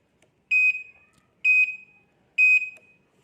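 Turn signal on a Uwinfly U2S electric bike giving three evenly spaced electronic beeps, loud and close, with a truck-like warning tone and no talking.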